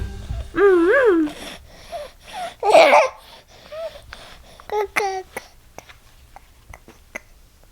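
A nine-month-old baby boy babbles and coos to himself in happy, sing-song bursts with a few breathy squeals, close and clear between short pauses.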